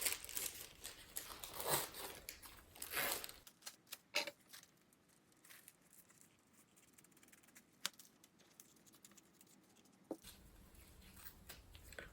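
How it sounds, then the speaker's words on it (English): Plastic-wrapped pads being opened and their wings snipped off, heard as crinkling packaging, tearing and scissor cuts, louder at the start and end with quieter handling in between. "we're going to open these pads and cut off the wings"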